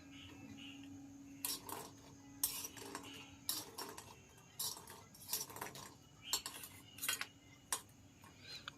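A spoon stirs lentil bori frying in mustard oil in a kadai, giving a quiet, irregular series of metallic clinks and scrapes against the pan over a soft background.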